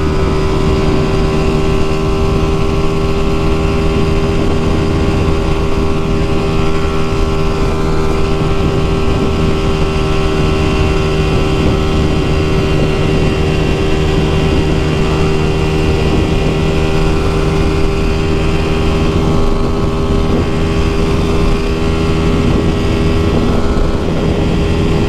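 A Honda Titan 150 motorcycle on a highway, its engine holding a steady, loud drone with wind rushing past the microphone throughout, no pauses or voices.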